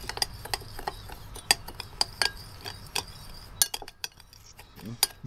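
A metal coffee spoon clinks and ticks against a bowl in quick irregular taps while coffee rub spices are stirred, with quiet kitchen background noise.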